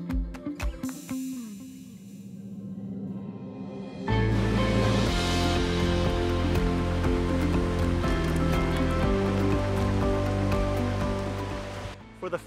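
White Face Brook beside the Signal Ridge Trail on Mt. Carrigain, a steady rushing stream that grows louder and fuller partway through and keeps flowing continuously, with no talk.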